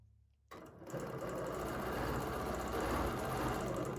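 A sewing machine stitches an arc guided by an oval quilting ruler, running at a steady fast whirring hum after starting up from silence, close and continuous with no talk.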